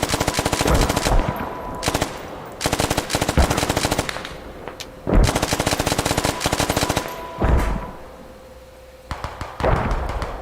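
Sustained automatic gunfire from the tactical shooter game Squad, loud and close, in repeated long bursts separated by short pauses and heavy thumping impacts.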